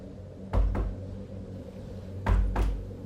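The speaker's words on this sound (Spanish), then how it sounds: "Volvieron a tocar la puerta, cada vez con más insistencia, hasta que sus toquidos se volvieron golpes." Two quick knocks on a door, then a pause and another pair of knocks, close and firm, with no voices.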